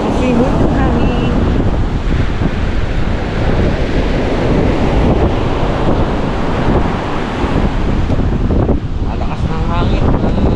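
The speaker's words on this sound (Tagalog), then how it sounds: "Malakas ng hangin." Strong wind buffets the microphone on the seashore at Nasugbu, Batangas, during a typhoon, mixed with crashing surf in a loud, continuous roar, with a voice faintly heard at times.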